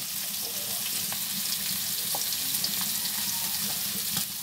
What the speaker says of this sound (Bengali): রুই মাছগুলো এইভাবে করে ভেজে নেওয়া হচ্ছে।